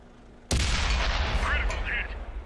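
Tank cannon firing in World of Tanks on Xbox 360, a Chi-Nu Kai shot: one sudden loud boom with a rumbling tail that lingers for about two seconds, with faint game effects afterward.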